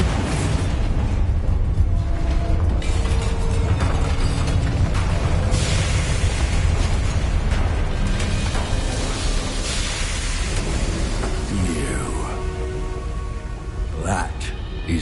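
Bombarda explosion spells in Hogwarts Legacy, heavy booming blasts and crumbling debris layered over a dense, loud combat soundscape with deep rumble throughout and spoken lines mixed in.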